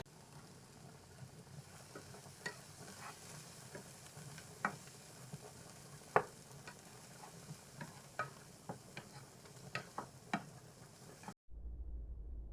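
Onions sauteing in a pan until translucent give off a quiet, even sizzle punctuated by irregular clicks and taps of a utensil, close and soft, then cut to near silence at the end.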